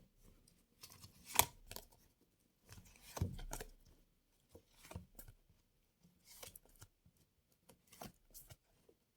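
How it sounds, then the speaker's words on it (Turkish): Tarot card deck being shuffled by hand at close range, quiet papery riffles and scrapes in short separate bursts with pauses between them and no talk. "Ve bir de tarot destenizi şöyle bir karalım."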